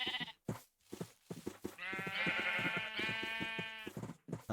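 Sheep in a video game bleat repeatedly, a close, loud, wavering call stretched over the middle, with shorter bleats and thumping steps around it and no talking.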